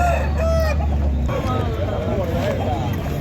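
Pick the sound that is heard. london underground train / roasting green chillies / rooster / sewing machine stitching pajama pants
rooster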